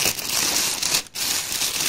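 A plastic bag crinkles steadily while a Mario Kart Live: Home Circuit Luigi set for Nintendo Switch is unboxed, a dense close rustle with one brief pause near the end.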